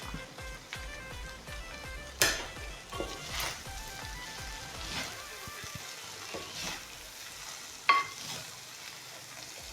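Chicken fried rice with rice and coriander leaves gets stirred in a hot pan, with repeated scraping strokes of a spoon over a constant close sizzle and a couple of sharper clanks against the metal.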